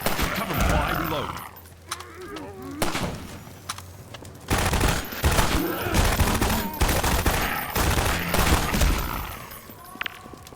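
Sniper gunfire in the VR video game Half-Life 2 VR: loud, repeated bursts and volleys of shots spread across the stretch, with short pauses and some voice-like sounds mixed in.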